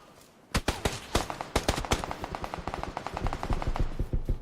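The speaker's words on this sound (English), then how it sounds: "Is that you shooting, Woody?" Gunfire in the video game PUBG crackles in rapid bursts, close and dense, a fast stream of sharp shots with a few louder cracks, continuing without pause.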